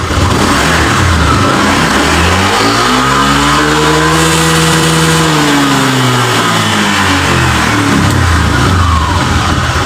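Honda Vario 125 scooter suffering from misfiring and overheating revs up loudly near the mic, engine pitch climbing to a peak midway and then falling back, with a harsh, strained tone throughout.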